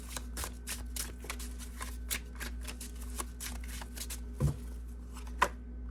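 Tarot cards are shuffled in soft, quick riffling bursts with small taps, close and quiet over a faint steady hum.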